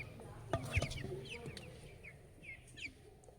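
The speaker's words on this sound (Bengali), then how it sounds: "সব মুরগিগুলো দেখো কত বড় বড় হয়েছে এই মুরগিগুলো।" Chickens in a coop give quiet, scattered clucks and short calls, a few louder bursts early on and then softer clucking.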